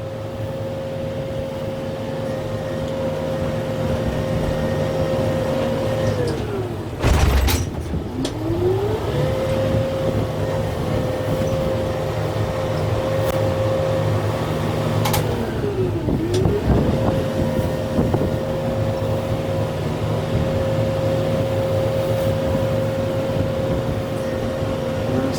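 A farm tractor with a 32-gear transmission drives slowly in low range, its engine droning steadily and close with a constant hum that dips in pitch twice as the load changes, plus a brief clunk partway through.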